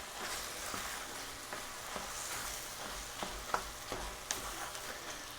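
Shiitake mushrooms stirred into chicken frying in a pan, a steady crackling sizzle broken by light scrapes and clicks of the utensil, close by.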